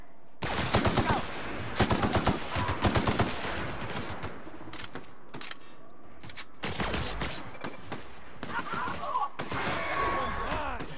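Rapid bursts of automatic gunfire in the video game The Outer Worlds, loud repeated volleys in the first few seconds, a pause, then further fire with mixed combat sounds.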